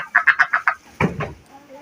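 A hen gives a run of five quick, evenly spaced clucks close by, followed by a few rougher, lower clucking calls that fade out.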